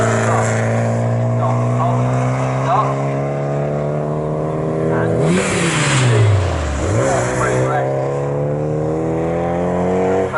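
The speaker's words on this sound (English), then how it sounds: "Christian Walker will be getting aboard the Boxster there" Porsche Boxster race car engine in a trophy race at Snetterton circuit, a loud sustained drone with rising and falling pitch as cars accelerate and pass, running continuously under a race commentator's voice.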